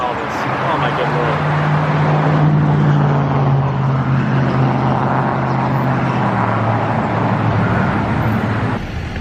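A truck engine running nearby on a residential lawn service route, a loud steady rumbling drone with a low tonal hum, continuous throughout and heavy enough to mask other sounds.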